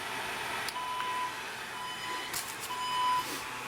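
An elliptical exercise machine beeps as it powers on indoors, thin steady tones repeating a few times at moderate level over a low background hum.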